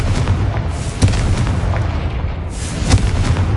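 Bombarda blasting spell explosions in the Hogwarts Legacy video game: a steady run of deep, booming bursts with sharp cracks near one and three seconds, loud and close over a dense rumbling bed, with no talking.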